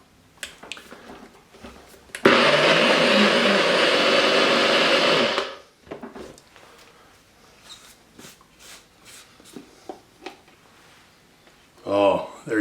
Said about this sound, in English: We're going to bring up our mighty machine up here. Go ahead and blend it up.